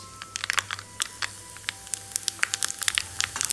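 Cumin seeds, added after red chillies and mustard seeds, sizzle in hot oil or ghee for a dal tadka, giving close, dense crackling pops scattered over a steady frying hiss.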